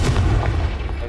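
Confringo blasting spell going off in Hogwarts Legacy on Switch: a short, heavy explosive boom with a rumbling low tail, close and loud, with no voices.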